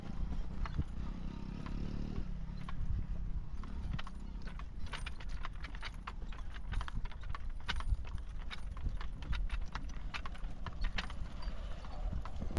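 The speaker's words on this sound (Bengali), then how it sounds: "আমি এখন আপনার চরের মধ্যে ঘোড়া নিয়ে যাচ্ছি।" A horse walks across a sandy river char beside the Padma in Kushtia, its hooves clip-clopping in a steady rhythm, fairly faint and close, with quiet outdoor background.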